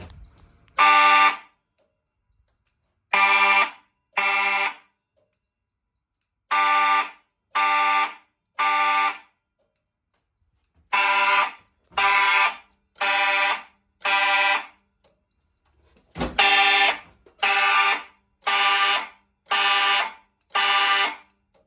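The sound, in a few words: vintage fire alarm system sounding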